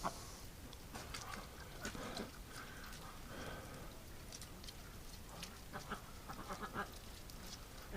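Muscovy ducks on a winter farm outing, a few soft quacks and rustling movement close by, with steady background noise and brief indistinct voices.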